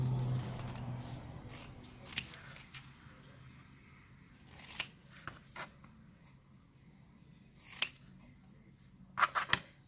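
Scissors trimming around the paper edges of a snowman cocoa packet craft, a handful of short crisp snips scattered over quiet room tone.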